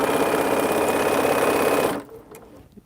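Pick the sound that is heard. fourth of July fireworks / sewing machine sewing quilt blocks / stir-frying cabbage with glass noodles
sewing machine sewing quilt blocks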